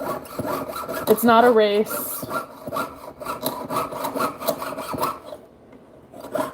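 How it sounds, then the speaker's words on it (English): A jeweler's saw pierces a silver stamping with close, steady back-and-forth rasping strokes that run almost throughout, and a voice speaks briefly over the cutting. "I feel myself pushing the saw blade forward"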